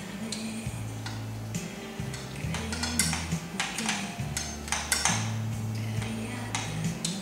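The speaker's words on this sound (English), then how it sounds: "finally, we're going to now mix the salsa" Salsa is mixed in a bowl: repeated clinks and taps of a utensil against the bowl in an uneven rhythm, close and fairly quiet, with a steady low hum underneath.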